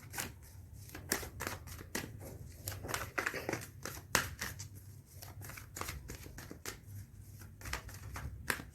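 Tarot cards being shuffled and handled at close range, a run of quick crisp riffles and flicks in irregular bursts, fairly quiet, with no talking.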